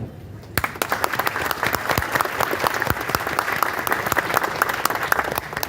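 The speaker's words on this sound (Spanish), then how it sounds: "damos un fuerte aplauso a Patricia Domínguez, familiar de Daniela Corbe" Audience applause at a memorial anniversary ceremony breaks out after a brief quiet start, then continues as dense, steady clapping from many hands until the end.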